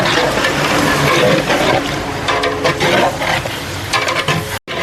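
Chopped onions and green chillies stirred and frying in a pot for biryani, a steady loud sizzle with scraping and stirring clatter throughout, no voices.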